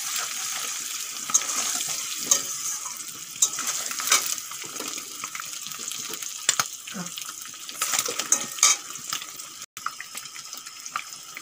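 Eggs fry in a pan for a spicy kasha dim, a steady bright sizzle with scattered stirring scrapes and clinks, close and continuous without talk.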